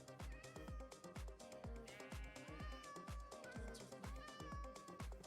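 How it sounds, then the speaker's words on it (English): A cat meows repeatedly in short, tonal cries over a continuous rhythmic music bed with thumping low beats, the meows recurring throughout and fairly prominent. "The little meows, yes."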